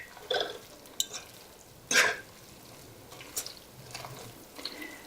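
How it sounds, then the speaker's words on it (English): Minced onion and other ingredients for a vegetarian chicken-style noodle soup are mixed together in a pot, with scattered spoon scrapes and clinks over a low bubbling background. "now I'm going to just mix everything together"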